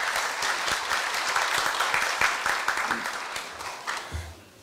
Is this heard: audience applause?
yes